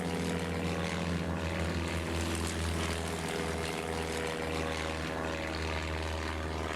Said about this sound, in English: I'd rather listen to the sound of the planes